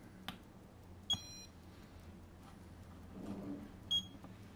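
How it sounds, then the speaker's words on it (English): Sparse, irregular clicks and short electronic beeps from a Geiger counter near a radium-226 source, three or four separate pulses over quiet background hiss. "You can hear it is beeping."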